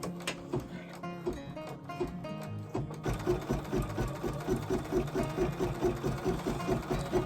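A sewing machine runs a satin stitch on a fabric place mat in close, loud, rapid rhythmic chatter. It starts with uneven bursts, then settles into a continuous fast run.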